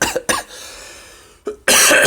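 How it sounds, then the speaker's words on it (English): Several dry coughs close to the microphone: a quick pair of sharp hacks, a pause, then two more harsh bursts. "How we go with the dry cough"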